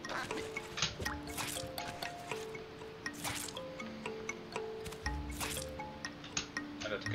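Water drips and trickles near a waterfall in the video game River Tails, with a steady run of close, wet plinks and squishy splashes over a soft running-water bed, and a tonal game melody playing beneath.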